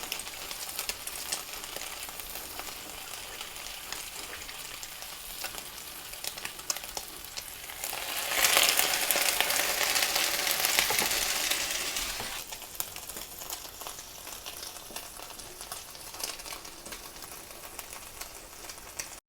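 Thick egg-washed bread fries in a hot pan for French toast, giving a steady close sizzle that swells louder for a few seconds midway, then settles back to a constant crackle with no talking.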